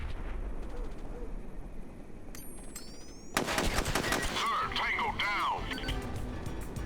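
Automatic gunfire in the SOCOM US Navy Seals II video game: after a quieter stretch with faint game noise, a loud, dense burst of rapid shots erupts and continues with sustained battle noise to the end.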